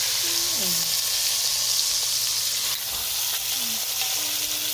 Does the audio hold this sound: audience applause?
no